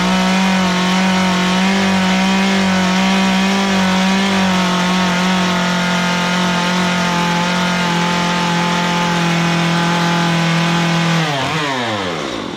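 A chainsaw carving wood for a bear head drones loudly at a steady high idle-to-cutting pitch for a long stretch, then winds down and drops in pitch at the end, with no talk.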